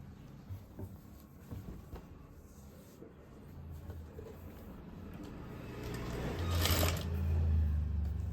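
A sewing machine stitches the seam of full-elastic pants, starting with soft handling rustles and light clicks, then swelling into a louder, steady motor whir near the end.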